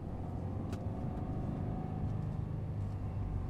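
A Subaru WRX, 2015 or later, with a Cobb AccessPort Stage 1 tune pulling away in first gear on a road, heard from inside the cabin as a steady low engine drone and road rumble with no speech.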